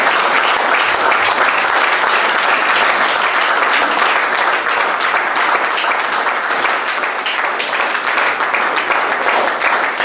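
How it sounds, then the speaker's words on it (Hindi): Sustained audience applause fills a large hall at an event, dense and steady clapping at full volume from start to finish with no speech over it. "ताली बजते रहनी चाहिए"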